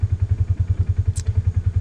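John Deere 3032E compact tractor engine running while clearing a fence row, a steady low chugging pulse with an even rhythm, close and fairly loud, plus one brief high clatter partway through and no talking.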